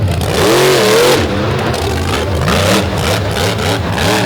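An off-road vehicle's engine revs loud and close while it spins donuts in mud at an all-star championship final, the pitch rising and falling in repeated sweeps over a continuous roar.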